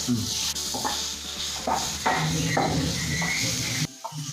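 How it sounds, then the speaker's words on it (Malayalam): Chopped carrot hits hot melted ghee in a pan, giving a close, continuous frying hiss broken by several scraping, rubbing strokes of a spoon stirring the pieces. "നെയ്യ് ചൂടായി ഇതിലോട്ട് നമുക്ക് ക്യാരറ്റ് അരിഞ്ഞത് അങ്ങോട്ട് ഇട്ട് കൊടുക്കാം"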